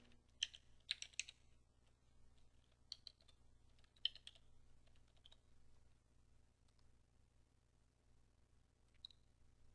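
A username and password are typed on a computer keyboard, giving a few quiet clusters of light key clicks separated by pauses, with one final lone keystroke, all faint over a low hum.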